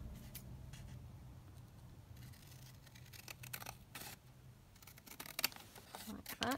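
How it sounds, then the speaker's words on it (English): Scissors cut around a paper craft layer with a run of crisp snips and rustles, quiet and close, growing busier toward the end over a low background hum. "And then we'll just cut around that."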